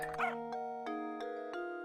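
A dog in Professor Layton and the Curious Village barks in a few short, bright yips spaced evenly apart, clean and close over a quiet game background.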